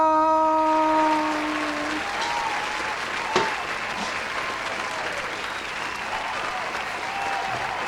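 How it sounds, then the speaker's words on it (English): Sustained applause and cheering from a comedy show audience as the comedian Zakir Khan is introduced, dense and steady throughout, with a brief sharp spike near the middle. "Cheering doesn't stop."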